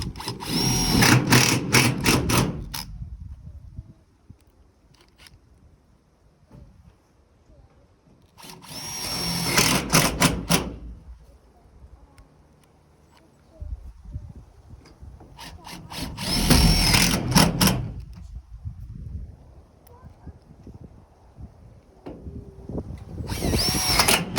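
A power drill drives screws through a panel while a shed or covered work area is built, with three loud whirring bursts separated by quieter gaps and a fourth starting at the end.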